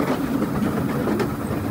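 An old mini train on mountain rails in Wulai, Taiwan rattles and clatters at a steady pace. The rumble is continuous and close, with no voices over it.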